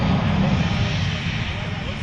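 An F-35B jet's engine roars steadily during its STOVL conversion, a loud, continuous broadband rumble with strong low-end thunder that holds without a break.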